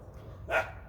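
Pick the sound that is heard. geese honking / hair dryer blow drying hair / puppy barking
puppy barking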